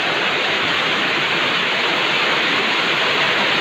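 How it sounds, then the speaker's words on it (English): Steady, dense roar of heavy rain at night, loud and continuous with no breaks and no voices. "It's a heavy rain."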